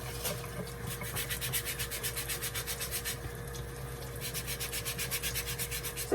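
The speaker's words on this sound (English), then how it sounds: "We're gonna go ahead and begin to sand it again." Steady rhythmic back-and-forth strokes of a sanding block rubbed by hand over a stripped surface, close and moderately quiet, about two to three strokes per second.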